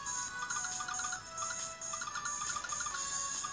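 A phone ringtone plays a repeated electronic melody in short bursts, loud and clear with no talking over it.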